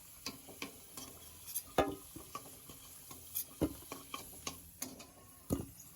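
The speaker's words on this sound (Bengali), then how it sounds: "একটু হলুদ দিতে দিয়ে আমি আলুটা ভেজে নিচ্ছি" Potato pieces frying in oil with turmeric while being stirred: irregular taps and scrapes of the spoon against the pan over a faint, steady sizzle, close and fairly quiet.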